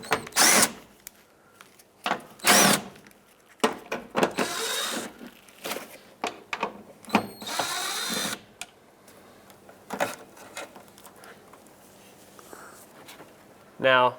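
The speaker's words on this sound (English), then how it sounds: "Now I'm going to take all these bolts out." A power tool spins out 10mm bolts on the tailgate of a 2003-09 Toyota 4Runner during window regulator work, whirring in repeated short bursts close by, with scraping and handling noises between them.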